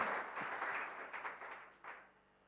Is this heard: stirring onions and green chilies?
no